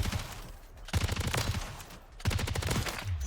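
Rapid bursts of light machine gun fire from the Tac Eradicator in Modern Warfare 3, sustained and loud, broken by short pauses between volleys.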